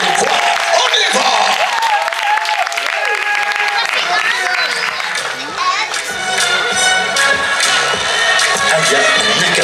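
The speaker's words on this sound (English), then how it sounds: "give her a round of applause" Audience applause and cheering for a child performer at a kids' open mic in a library, lively clapping with whoops and children's voices mixed in, and an announcer talking over it.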